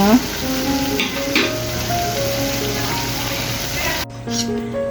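Noodle pakoras sizzle steadily in hot oil, a continuous crackling hiss, with faint tonal background sounds and a brief break near the end.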